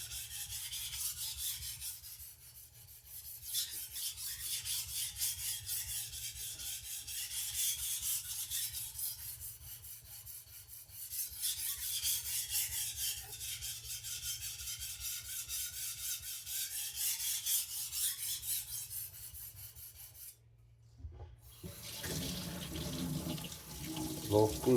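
A badly abused knife has its edge sharpened with long, repeated rasping strokes of steel on abrasive, coming in steady rhythmic passes up close, with a brief pause near the end.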